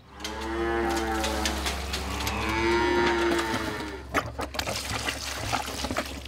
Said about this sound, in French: Nous élevons 100 vaches laitières sur 190 hectares